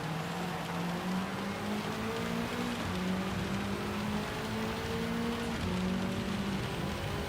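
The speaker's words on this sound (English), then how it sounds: "I'll just listen to that rain coming down now." Steady rain pours down in a continuous hiss in Gran Turismo 7, with a low Lancia Delta engine drone humming underneath throughout; no voices.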